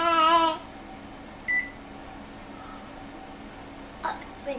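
Microwave oven keypad beeping while a cooking time is set, a few short separate electronic beeps spaced out over several seconds, with a voice heard at the start.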